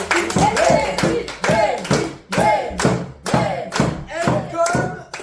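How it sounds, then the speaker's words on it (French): An audience applauds and cheers a comedian taking the stage at a live stand-up show, rhythmic clapping and thumps surging in waves, with loud voices calling out over it. "Melville Cotard, applaudissez le bien fort."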